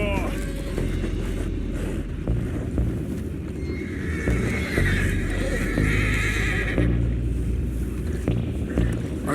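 Horses whinny and neigh loudly aboard a boat in Red Dead Redemption 2, with hooves clopping on the deck over a low engine rumble and wash of water.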